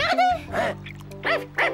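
A dog in an animated series yips and whimpers in short bursts, with a voice talking close over it.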